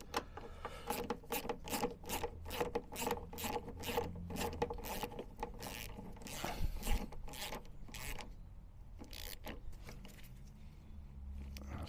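A bolt is tightened on the electric step of a Vito taxi, giving a quick, rhythmic run of close metallic ratchet clicks that slows and thins toward the end.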